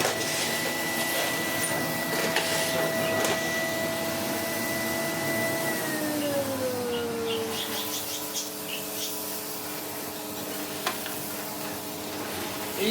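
A Vevor carpet sweeper runs over birdseed on carpet, giving a steady whirring brush drone with scattered crackling pickup of seed; the tone drops partway through.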